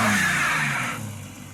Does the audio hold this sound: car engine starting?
yes